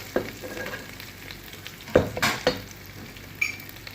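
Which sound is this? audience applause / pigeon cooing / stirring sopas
stirring sopas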